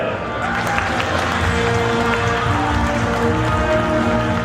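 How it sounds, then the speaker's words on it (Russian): An audience applauds at the final of a Tatar girls' pageant, with loud, dense, continuous clapping and some crowd noise that may include indistinct voices. "Аплодисменты!"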